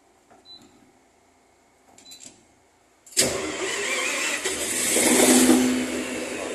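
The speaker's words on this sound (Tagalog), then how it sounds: "So pwede na tayo mag-start." A standby power generator engine for a refrigeration supply cranks and catches after a few faint clicks, then runs loud and steady, its roar swelling slightly as it settles.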